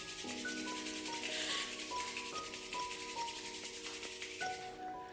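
Palms rubbing together in a repeated dry, swishing friction during a children's mindfulness exercise, steady and close, with soft tonal music playing underneath and no talking.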